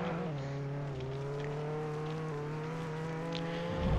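A tow truck driving in Roblox Jailbreak, a steady droning engine hum held at an even pitch throughout, with no talk over it.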